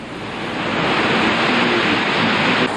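Roaring, steady rush of Bulil waterfall at Cheonghak-dong, a loud broadband wash of falling water that fills the whole stretch without a break and no voices.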